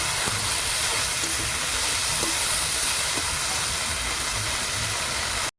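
Fenugreek leaves and green chillies go into hot oil in a home kitchen, producing a loud, continuous frying hiss that runs unbroken until it cuts off abruptly at the end.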